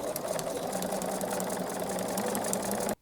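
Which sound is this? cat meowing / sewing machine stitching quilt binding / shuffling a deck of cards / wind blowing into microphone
sewing machine stitching quilt binding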